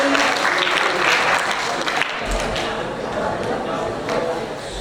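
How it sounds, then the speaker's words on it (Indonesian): Audience applause at an alumni sharing session, many hands clapping in a lively, fairly loud burst with voices mixed through it, settling into a steadier patter. "Kita ada tepuk tangan dong, Putri."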